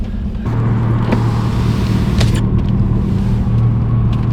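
A 1.8T car with a DSG DQ250 gearbox drives in third gear, producing a loud, steady low engine drone and rumble heard from inside the cabin, with a few faint clicks and no speech.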